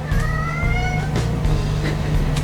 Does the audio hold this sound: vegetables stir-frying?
no